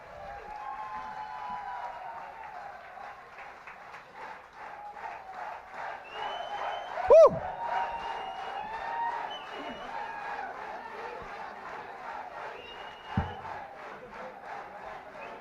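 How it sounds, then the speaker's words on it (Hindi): A large crowd at a film music launch event cheers and chants in a pulsing rhythm, with a sharp loud thump midway and scattered clapping, heard from a moderate distance. "जोरदार तालियां हो जाए"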